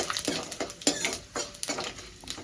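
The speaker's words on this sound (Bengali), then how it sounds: "ফোড়নটা আমি খুব ভালো করে ভেজে নেব।" Whole cumin and fenugreek seeds fry with mustard seeds in hot oil for a low-flame tempering, a soft crackling sizzle broken by several close spoon taps and scrapes against the pan.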